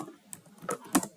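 A few distinct computer keyboard key presses from typing code, scattered over a short moment, close and fairly clear, with the strongest clack near the end and no talking.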